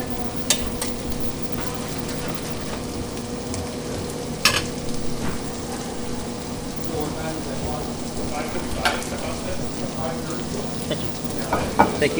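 Thai shrimp sizzling steadily in a hot pan as they are turned, a continuous crackling fry with occasional sharper pops and utensil clicks, close, with people talking intermittently over it.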